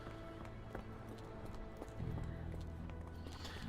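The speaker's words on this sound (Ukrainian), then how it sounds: "знову коні" Horses clip-clop along a street in the Sherlock Holmes The Awakened video game, a steady trotting rhythm of hooves under a low ambient bed, growing a little louder midway.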